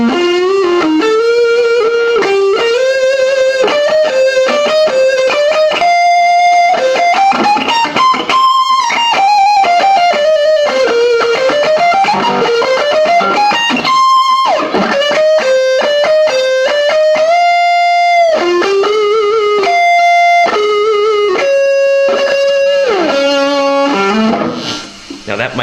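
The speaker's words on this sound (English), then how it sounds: "it's got a lot more of a treble and bass type distortion instead of this mid-range peak" Distorted electric guitar through a Squier/Fender SP-10 effect with a treble- and bass-heavy tone, played as a continuous loud melodic line of sustained and sliding notes, alone without talk.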